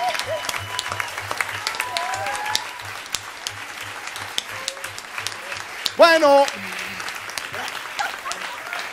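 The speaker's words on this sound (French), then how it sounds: "Et on les applaudit bien fort." A live crowd applauds the Cuban band after a stage performance, scattered clapping and cheering spread under an announcer's voice over the PA, with a low repeating bass pulse and a brief whistle-like shout near the end.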